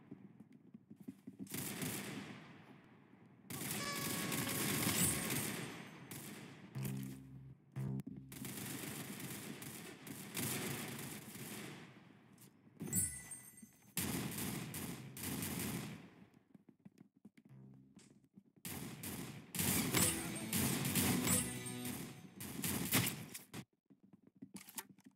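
Gunfire in the Roblox game Arsenal comes as loud bursts of rapid automatic shots and quick volleys, broken by brief silent pauses, with no talking.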